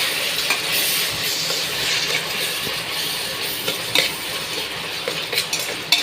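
Tomatoes sautéing in a pan for green masala chicken curry, a constant hiss of frying with intermittent scrapes and clinks of a spoon against metal.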